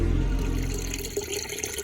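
Liquid rushing out during the first flush of a GM 4106 bus cooling system, heater cores included: a continuous close, noisy gush of water that holds steady for about two seconds.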